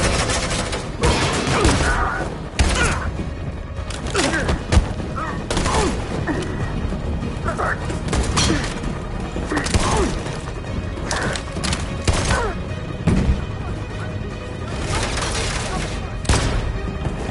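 Suppressing gunfire in a shooter game rattles almost nonstop as a dense, loud fusillade mixed with thuds and booms, while voices shout over the chaos.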